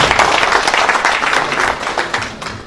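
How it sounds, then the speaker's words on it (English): Audience applause at an ICAN courtesy visit to the Head of Service, a steady wash of many hands clapping together, loud and sustained throughout with slight tapering toward the end. "Please, a round of applause."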